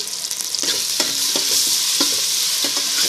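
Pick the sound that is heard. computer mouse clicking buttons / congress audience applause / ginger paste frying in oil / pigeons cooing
ginger paste frying in oil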